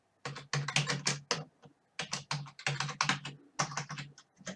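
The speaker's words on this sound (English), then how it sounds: "Start typing." Typing on a computer keyboard while entering details into event software settings: close, loud bursts of rapid key clicks in several quick runs separated by short pauses, with no talk.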